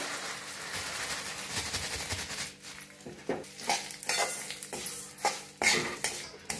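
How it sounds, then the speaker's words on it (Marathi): Sesame seeds roasting in a little oil in a pan while making homemade red chilli masala powder, with soft crackle under repeated clinks and scrapes of a spoon stirring against the metal pan. "आता तीळ घालून घेऊया, तीळ बी भाजून घेऊया।"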